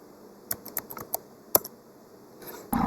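Computer keyboard keys are pressed in a quick scatter of sharp, close clicks, followed by a final key tap and a louder rustle at the end.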